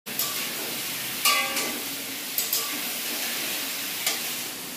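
Prawns fry in a hot pan with a steady, close hiss of sizzling oil and a handful of brief scraping clatters as they are stirred, with no speech over it.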